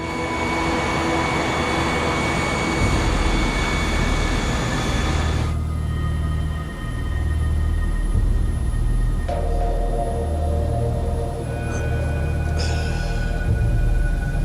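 Boeing 727 jet engines idling while the airliner holds on an airport taxiway, a steady whining drone with a low rumble underneath and tonal shifts partway through, continuous and fairly close with no talking.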